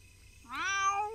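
A single rising, drawn-out cat meow from The Sims 2, clear and close, alone against quiet game background.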